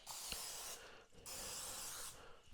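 Two bursts of cooking spray hiss close up as loaf pans are sprayed for bread, each lasting under a second with a short pause between, quiet and otherwise silent.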